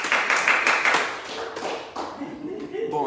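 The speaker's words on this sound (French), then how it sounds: "Applaudissons pour lui." Church congregation clapping in a worship service, a burst of hand claps that fades after about a second into scattered claps under someone talking.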